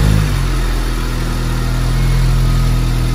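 A 2015 ninth-generation Honda Civic Si engine running at idle after a fresh drive belt was fitted, giving a steady, loud mechanical hum with no speech.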